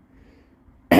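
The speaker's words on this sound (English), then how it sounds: "I got this cough" A single sharp cough bursts out close and loud at the end, after a stretch of quiet room hum.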